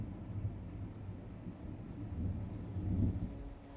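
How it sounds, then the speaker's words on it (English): Thunder rolls as a low, continuous rumble from a distance, swelling gently toward the end, with no voices over it. "you can hear this, it's thundering here"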